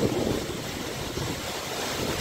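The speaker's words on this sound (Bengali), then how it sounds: "অসাধারণ একটা ঝর্ণা" Waterfall in mountainous Sikkim pouring down from high above, a steady dense roar of rushing water heard from close by, continuous with no breaks.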